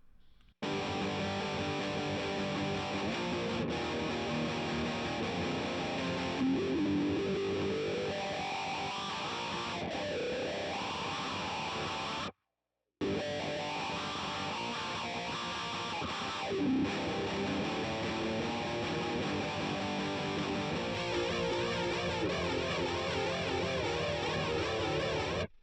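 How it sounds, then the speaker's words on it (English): A guitar played through a Boss DA-2 Adaptive Distortion digital pedal gives a loud, sustained, saturated tone with bends and chords, close and continuous, with a short break midway and no talking. "The primary distortion tone that you just heard was the Boss DA2, the adaptive distortion, which is a digital distortion."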